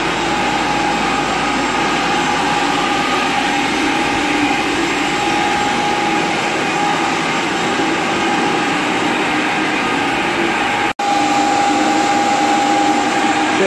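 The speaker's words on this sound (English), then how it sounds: "fans are blowing, so it's hard to hear probably" Fans running while a vinyl composition tile floor is stripped and waxed, making a loud, steady broadband roar that carries on unbroken apart from a brief dropout near the end.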